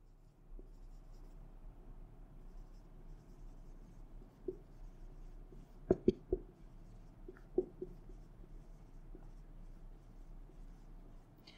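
A pen writing out an English sentence makes faint, quiet scratching with a few sharper taps and strokes clustered near the middle, heard alone against a soft background hiss.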